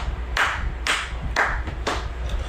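Four distinct hand claps spaced about half a second apart in an even rhythm, each sharp and close with a short ringing decay, made to imitate airplane turbulence. A low background hum runs underneath.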